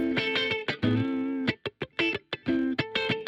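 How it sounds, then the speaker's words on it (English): Guitar notes and short chords ring through an amp cabinet effect with small room reverb, thick in the low end, with choppy bursts and brief gaps between phrases. "First is an amp cabinet. So it's filling out the low end and giving it a bit more thickness, and then some small room reverb."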